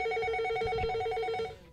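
A telephone rings in steady, loud, repeated electronic bursts on a studio call-in line, with no talk over it.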